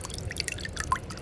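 A small JT160 12 V DC brushless mini pump lands in water, followed by a quick run of light splashes and sharp drips close by, with no talking.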